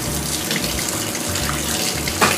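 Hot water runs steadily from a newly installed sink faucet, a continuous close splashing hiss with a brief louder gush near the end and no talking.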